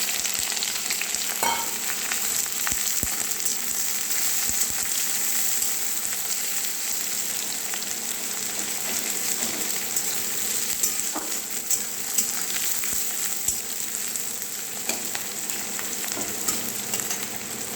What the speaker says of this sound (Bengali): পেঁয়াজ ফ্রাই হচ্ছে